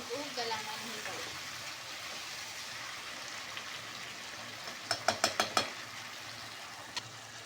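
Finely chopped tomatoes go into hot frying masala and sizzle steadily at low level, with someone speaking briefly at the start and a few sharp clinks of a utensil near the end.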